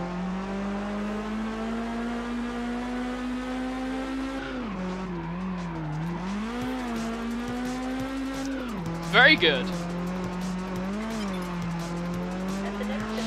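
A Jaguar supercar in Test Drive Unlimited on PS2 racing with a sustained loud engine drone that rises and dips with throttle, plus a short tire squeal midway; a person speaks briefly.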